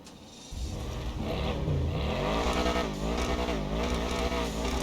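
A Mercedes sports car engine in GTA 5 Online revs and accelerates loudly, its pitch rising and falling through gear changes in a continuous throaty drone, with no talking.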